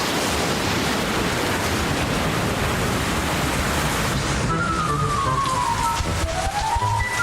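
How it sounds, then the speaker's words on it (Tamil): Heavy rain pours down in a steady, dense roar that fills the whole stretch, loud and close, with a faint whistling tone sliding in near the end. "வேகமா வா, படு பயங்கரமா மழை பெஞ்சுக்கிட்டு இருக்கு"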